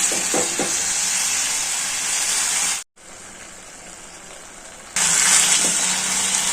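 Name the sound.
bitter gourd curry frying in pan with asafoetida and chili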